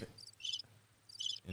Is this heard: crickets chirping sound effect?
yes